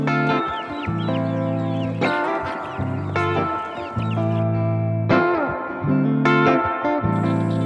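Loud, repeated honking quacks and clucks from several Muscovy ducks on a free-range farm, coming in bursts with short pauses between, close to the microphone and with no talking.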